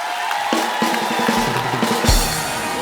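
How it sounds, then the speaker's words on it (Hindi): Studio crowd on a Hindi comedy show cheering and clapping for arriving guests, a lively swell of whoops and applause mixed with music hits and booming stage sounds. "तालियां जोरदार होनी चाहिए जरा।"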